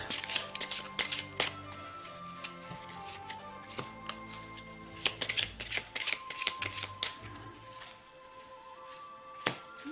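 Tarot cards are shuffled by hand close up, a series of crisp riffling bursts and soft slaps that come in irregular clusters and fade toward a quieter stretch near the end.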